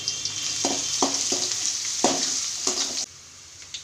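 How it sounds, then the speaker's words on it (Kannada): Broad beans with garlic frying in a pan, a steady close sizzle with several distinct stirring scrapes spaced through, the sizzle dropping off sharply near the end. "ಸ್ವಲ್ಪ ಫ್ರೈ ಮಾಡಿ."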